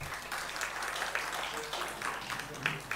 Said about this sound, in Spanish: Un aplauso para el grupo 1.